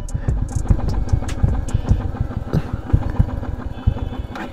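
Royal Enfield Classic 350 single-cylinder motorcycle engine running low on fuel during a mileage test, a close, loud, uneven thumping idle with irregular pulses.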